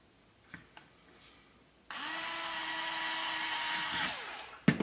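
Power drill boring through a quadcopter frame part for a QuadLugs QL 250 Mini+ build, a few light clicks and then a steady close whine lasting about two seconds before winding down.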